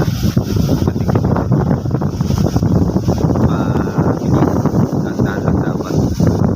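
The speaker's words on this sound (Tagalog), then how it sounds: "Napakalamig dito ngayon at napakalakas ng hangin." Strong, cold wind batters the microphone at Mykonos, Greece, a loud roaring rumble with gusting buffets throughout, near water with boats nearby.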